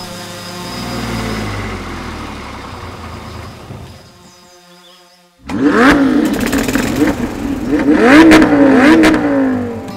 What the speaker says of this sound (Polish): Słyszę silnik.